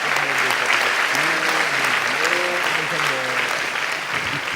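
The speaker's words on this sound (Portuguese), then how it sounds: "Pode aplaudir ao Senhor." A church congregation applauds steadily and loudly throughout, with voices calling out over the clapping.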